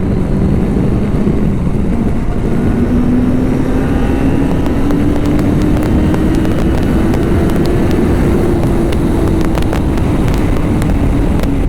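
A Yamaha Fazer 600 motorcycle engine revs in a steady, loud drone whose pitch climbs slowly and then levels off, heard alone with heavy wind noise over the microphone.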